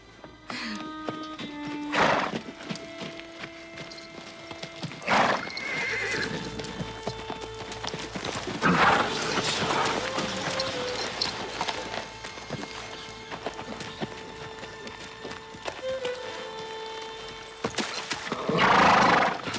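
A horse's hooves clip-clop on hard ground and it whinnies loudly several times over a long stretch, with a few louder neighs near the start and end.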